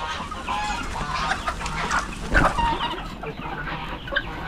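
Darag native chickens clucking steadily on a farm, several birds close by with overlapping calls and a louder burst midway, no talk.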